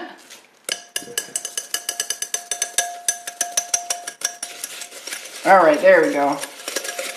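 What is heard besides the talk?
whisking a creamy soap mixture in a bowl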